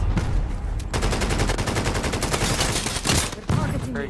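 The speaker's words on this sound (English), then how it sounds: "Receiving hostile fire." Rapid video game gunfire hammers on continuously as a dense, loud fusillade of rattling shots with a few heavier bursts near the end.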